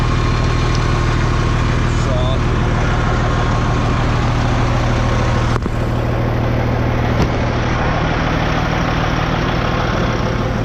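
A truck engine idles at a farm before a morning of hauling loads. The low, constant rumble holds an even level throughout, with a couple of faint clicks partway through.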